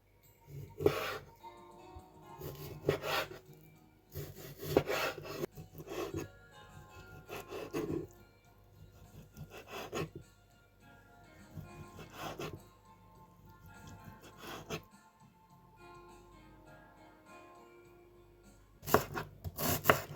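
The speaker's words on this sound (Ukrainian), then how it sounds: "Філе потрібно нарізати на дрібні кубики." A knife slices raw chicken fillet into small cubes on a cutting board for minced chicken cutlets. Soft, rubbing cuts land in loose bursts every couple of seconds, fairly close and quiet, with no voices.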